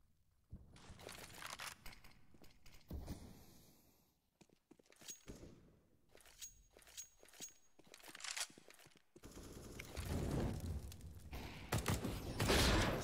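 Gunfire in a CS:GO pro match between ALTERNATE aTTaX and cPLAY at the ESL Spring Championship 2019: dense bursts of rapid shots and sharp cracks mixed with footsteps and other game effects, loud and continuous with no clear talking.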